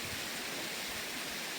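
Rushing water at the 32 Jharna waterfall in Ilam, Nepal, a soft, constant distant roar with no talk over it.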